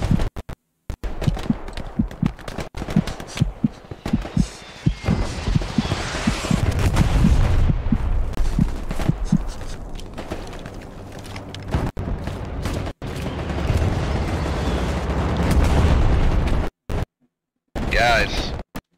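Gunfire and artillery in Hell Let Loose: a rapid stream of close rifle and machine-gun cracks and heavy booms, loud and dense, broken by brief silences, with a voice speaking over parts of it.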